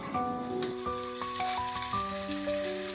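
Potatoes and onions fry and get stirred in a pan, giving a steady close sizzle throughout, with background music tones layered over it.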